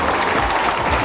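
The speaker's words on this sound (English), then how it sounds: "give him a big round of applause" A game-show studio audience claps for a contestant after a timed round, giving a short, steady burst of dense applause at close range.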